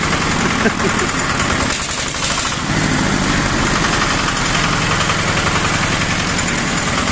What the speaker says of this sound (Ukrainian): Це 12 кінських, 12 кінських сил, дизельний, на стартері, водяного колодження